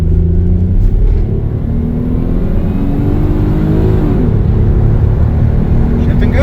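A 1991 Mitsubishi 3000GT SL with a rebuilt automatic transmission accelerates at full throttle, its engine roaring loud and close with rising pitch and a gear shift partway through, under steady road rumble.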